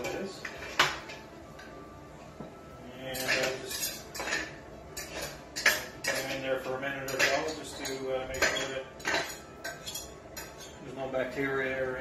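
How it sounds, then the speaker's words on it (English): Glass bottles clink and knock against one another and a metal pot of boiling water in irregular bursts of bright clatter. "Now we just want to add them to boiling water just to sterilize"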